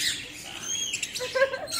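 Birds at Yelagiri bird park give brief chirps and squawks at close range over quiet background, a few short calls within under two seconds.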